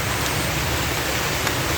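Steady, hissing rain pouring down close by, a constant dense patter with no breaks.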